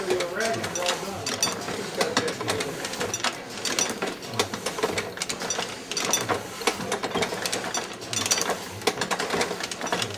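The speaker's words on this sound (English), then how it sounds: "The nice thing about the treadle, you can control the speed." Treadle-operated platen printing press running at a steady pace, a dense rhythmic clatter and clank of the mechanism repeating through the whole stretch, close and busy, with a voice talking faintly over it at times.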